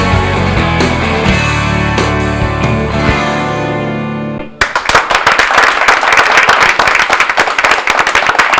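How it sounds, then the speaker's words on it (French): Audience applause at a Saturday show: music plays first, then dense, loud, steady clapping from a crowd fills the rest, with no one talking. "On applaudit."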